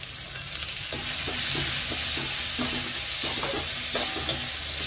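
Chopped shallots frying in a pan, a steady close crackling sizzle with light scraping and stirring taps spread across it.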